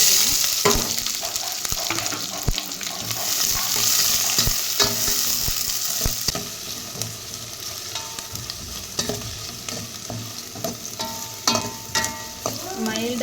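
Steady oily sizzling of chopped onions frying in oil in a pan, with occasional stirring scrapes and clinks, continuous and close throughout.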